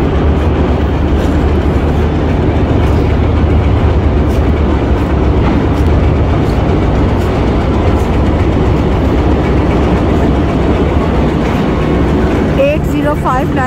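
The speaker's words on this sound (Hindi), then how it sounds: "सर सैयद एक्सप्रेस का रैक आ चुका है प्लेटफॉर्म नंबर 3 पर" Sir Syed Express rolling into platform 3 at a busy railway station, a loud continuous rumble and clatter of the train with a brief squeal near the end.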